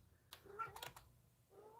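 A pet cat meows indoors, a couple of short, moderately faint calls heard close by in a quiet room with light background noise.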